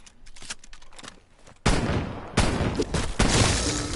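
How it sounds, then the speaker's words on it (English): A shotgun fires in rapid, loud, close blasts in Call of Duty: Black Ops Cold War Zombies. The blasts grow denser and more intense after the first second and a half, with no talking. "with the shotgun, I made sure that I'm getting those critical headshots to get the most points that I can"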